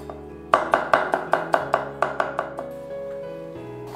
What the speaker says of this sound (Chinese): 最后来两瓣蒜，把它剁成蒜末。